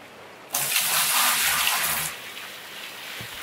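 Water rushes through a sluice in the Gold Rush mining game, a loud steady gush that starts abruptly, runs for about a second and a half, then cuts off into quiet.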